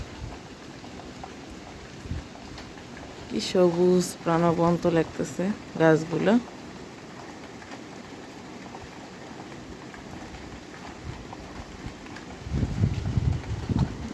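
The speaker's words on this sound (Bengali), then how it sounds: "বৃষ্টির মুহূর্তটা আপনাদের সঙ্গে একটু শেয়ার করি।" Steady rain falls outside a window on a wet morning, wetting garden trees including a pomegranate, as a soft continuous hiss throughout; a voice speaks briefly near the start.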